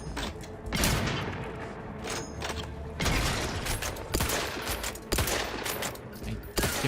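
Rapid bursts of gunfire from The Outer Worlds 2 video game crackle loudly and continuously, with several heavy volleys and sharp shots punctuating the clip, and no talking over it.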